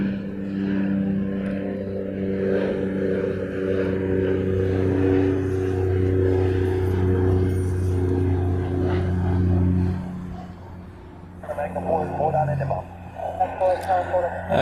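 Deep, steady jet engine rumble and whine from an airliner rolling on the runway at Honolulu airport, loud and sustained, fading out near the end as someone talks over the background.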